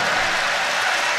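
Crowd applause and cheering fill a track cycling velodrome at a world championship elimination race as a rider rejoins after a crash, a dense, steady roar held at even loudness throughout without a break.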